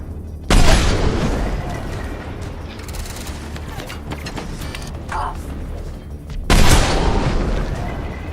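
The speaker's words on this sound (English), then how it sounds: "Well, there's a full body explosion." Explosions in the Mass Effect 3 video game: two loud, sudden blasts open and close a stretch of rumbling, crackling battle noise, each bursting in at full strength and then settling into a sustained roar.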